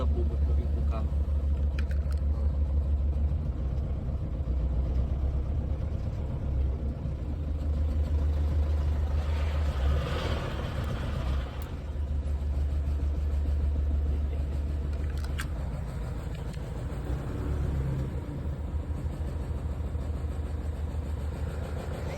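Toyota Bandeirante 4x4 engine rumbling steadily at a low idle, close by, with people talking over it throughout.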